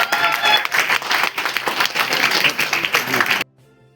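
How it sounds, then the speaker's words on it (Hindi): Audience applause at a Hindi seminar hall, lively uneven clapping from a crowd that swells and pulses for a few seconds and then cuts off abruptly into near silence. "सोचो मत, ताली बजा दो, आपका भी आएगा।"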